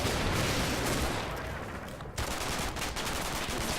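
Gunfire and grenade blasts in the WWII tactical game Combat Mission: Battle for Normandy, with a Sten gun in the fight: dense, continuous rattling bursts and crackling shots at close range, loud throughout with a brief dip midway.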